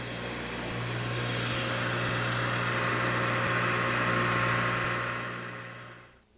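A Rush 132 drill grinder runs steadily while thinning the web of a drill point, giving a continuous loud machine whine with a low hum that holds for about six seconds and then cuts off abruptly at the end.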